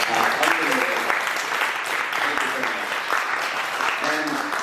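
An audience at the Garje Marathi Global Horizon 2025 event applauds in a sustained round, with a voice speaking intermittently over the clapping.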